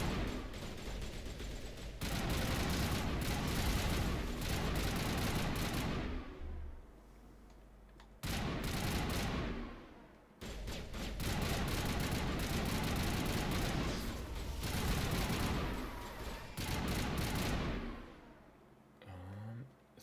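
Dense bursts of gunfire from the video game Mass Effect: Legendary Edition, loud sustained volleys broken by short pauses around the middle of the stretch, with heavy low-end weight throughout.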